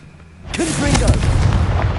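A Confringo blast spell explodes in Hogwarts Legacy, a sudden loud booming burst that rolls into a sustained rumbling roar with crackling debris, with a voice calling out over it.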